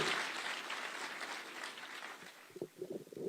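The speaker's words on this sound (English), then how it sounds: "Another round of applause for the captain, Faith Kipyegon" Audience applause for a team captain at a Kenyan ceremony, a steady wash of clapping that fades, then gives way to a few scattered, louder claps near the end.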